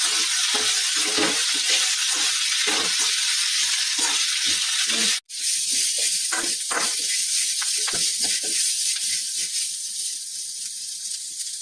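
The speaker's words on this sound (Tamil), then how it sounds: "இப்போ நல்லா வதக்கி எடுத்துக்கலாம்" Amman pacharisi leaves sautéing in a pan give a steady, loud sizzling hiss, with a brief gap midway and faint scraping stirs underneath.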